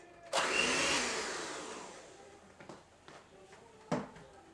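An electric mixer whirs loudly through red velvet cupcake batter as vanilla extract is blended in, the steady drone fading over a couple of seconds, followed by a few short clattering knocks.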